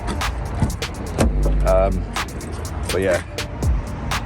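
A van rolls along a road in Scotland, its low engine and road rumble droning steadily beneath someone talking.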